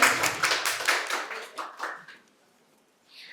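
An audience at a medical college quiz competition bursts into loud applause for a prize winner, with dense clapping that fades out over about two seconds, leaving near silence.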